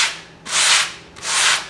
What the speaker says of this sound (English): I can actually just move my sanding block down the grain to see how it's working out